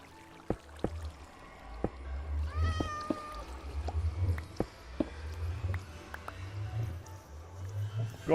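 A cat meows a few times, rising and falling calls heard close by over a low background rumble with scattered clicks and knocks around it.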